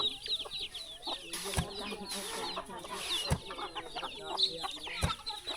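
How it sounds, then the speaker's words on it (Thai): Chickens cluck and chatter close by in a remote Lao ethnic-minority village without electricity, with a few sharp dull thuds at intervals and quiet rustling beneath. "เป็ดไก่ก็หลาย"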